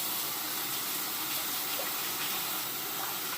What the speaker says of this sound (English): now I'm going to wet the razor